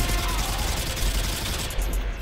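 Sustained automatic gunfire from a sentry gun in Modern Warfare 2 Zombies, a dense, continuous rattle of rapid shots at steady loudness throughout, with a brief brighter burst near the end.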